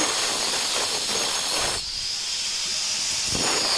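A harsh, loud hissing grind from a wall cutting machine cutting through cement runs continuously, dipping briefly midway before resuming at full strength.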